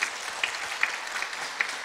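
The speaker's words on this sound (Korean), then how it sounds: "여러분 이 시간에 우리 격려 박수 한번 합시다" A church congregation claps for the guitarist during a Sunday worship service, a steady, moderately faint patter of hands with a few sharper claps standing out through the short burst.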